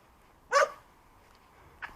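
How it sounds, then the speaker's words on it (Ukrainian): A single sharp dog bark sounds near a nineteenth-century house on a hillside in Zaporizhzhia, followed by a fainter short yip, against quiet background hiss. "Ну і досить багато собак тут."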